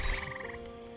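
A frog in the video game Embers Adrift gives a quick run of rapid, pulsing croaks, fairly faint, then fades into a low background hum.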